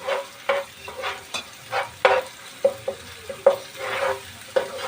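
Ginger garlic paste frying with onions in a pan for Surti egg khimo, with repeated stirring scrapes and a steady sizzle in rhythmic bursts, close and moderately loud, no talking.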